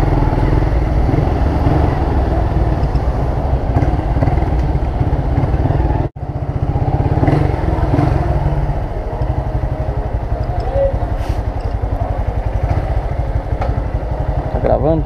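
A Titan 160 motorcycle fitted with a new Polimet Turuna exhaust runs loud and close for the whole stretch, with a steady low engine drone that cuts out briefly partway through.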